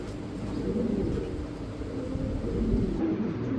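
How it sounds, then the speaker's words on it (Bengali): A male pigeon at a pigeon farm coos in low, repeated rolling calls, moderately close, over faint background hum and a distant passing car. "অনেক সুন্দর ডাকাডাকি ফুল অ্যাক্টিভ কবুতর"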